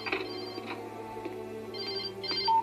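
Telephone ringing in a video game, with repeated electronic ring bursts over a quiet tonal background.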